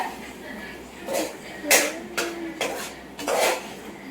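A spoon stirs curry in a metal pot, making several irregular clinks and scraping knocks against the pot at close range over a quiet background.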